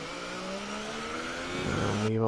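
F1 car engines on the formation lap in the F1 2018 racing game, at Bahrain, hum with a steady tonal drone. The pitch dips and shifts toward the end as a car downshifts, and a voice talks quietly underneath.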